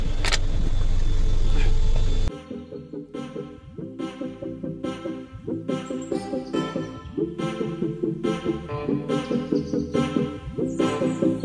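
A car drives along a rainy ghat road and eases over to the roadside, its engine hum steady under rhythmic throbbing pulses, with a louder wind-blown rush in the first two seconds.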